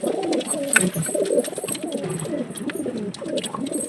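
Male breeding pigeons coo together in a loft: a continuous, overlapping low murmur of cooing at close range, steady for several seconds with no talk.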